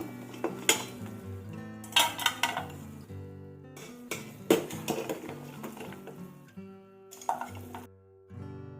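Half-boiled goat legs are moved into a metal vessel with repeated clanks and clinks of metal on metal. The knocks come in irregular bursts and ring briefly, close by.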